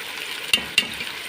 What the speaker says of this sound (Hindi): ये देखिए मैंने इसमें प्याज डाल लिया है। अब इसको अच्छी तरीके से ब्राउन करेंगे।